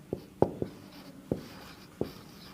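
Chalk or marker strikes on a board during a Class 9 mathematics lecture, five separate taps and scrapes at an uneven pace, fairly close and clear against a quiet room, with no talking.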